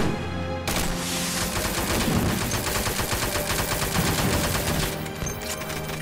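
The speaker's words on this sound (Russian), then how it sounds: "Классный пулемет." Machine gun in the survival game Unturned firing a long, rapid sustained burst of close, loud shots with dense rhythmic crackle, alone with no talk.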